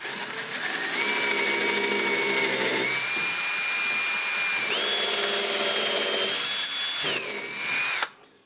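A power drill boring a 3/16 inch pilot hole into wood for a puffin push toy, a loud continuous whine close by with pitch shifts as the bit bites, ending abruptly.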